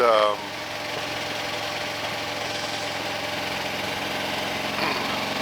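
Motorcycle engine droning steadily while riding a rough, curvy road, a continuous buzzing hum with wind rumble, fairly even throughout after a brief louder onset.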